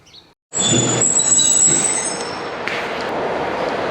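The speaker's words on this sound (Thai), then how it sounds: "ตอนนี้รถไฟมาแล้วนะ น่าจะคันนี้นะ" The Yangon Circular Train pulls into a station in Myanmar, its wheels squealing loudly and shrilly on the rails before settling into a heavy rolling rumble close by.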